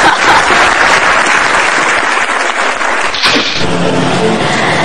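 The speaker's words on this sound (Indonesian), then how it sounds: "Kita kasih tepuk tangan Pak Anas." A crowd claps loudly for several seconds, the applause thinning briefly before picking up again near the end.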